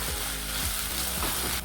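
Ginger garlic paste fries with onions and a little turmeric in a pan for a drumstick masala curry, giving a steady close sizzle with faint stirring scrapes throughout.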